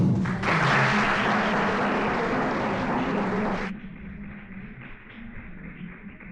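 Audience at a library talk applauding a speaker, a loud, dense burst of many hands clapping that drops abruptly after a few seconds to a quieter room with faint lingering claps.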